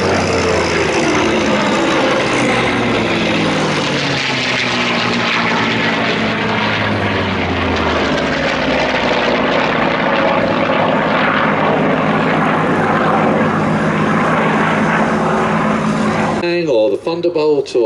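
A WWII P-38 Lightning propeller fighter flies aerobatics alongside another warbird, its loud, continuous engine roar sweeping and droning for the whole stretch before cutting to a choppier sound at the end.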